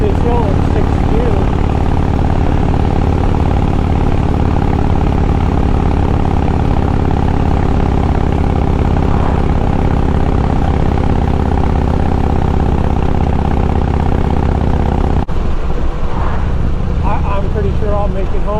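A Harley motorcycle engine drones loudly and continuously while climbing a hill in sixth gear on gasohol, with a steady low roar and wind rush throughout, dropping away briefly near the end.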